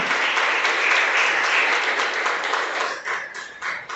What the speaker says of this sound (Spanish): Dele un aplauso a la palabra de Dios que te respalda